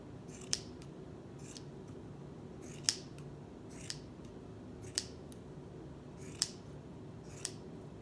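Scissors snip a yarn pom pom in six sharp, isolated cuts spaced a second or two apart, close and fairly quiet over a faint steady room hum.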